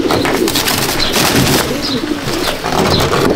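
Pigeons cooing in a loft in Andul, Howrah, soft repeated low coos overlapping from several birds nearby, with faint rustling and occasional chirps in the background.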